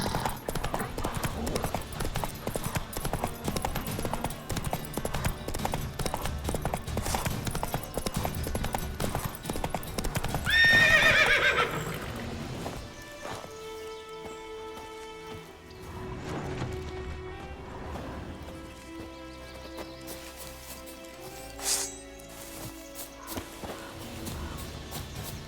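Galloping hooves of Roach in The Witcher 3, a fast steady clip-clop filling the first half before dropping away into quieter game music and scattered effects.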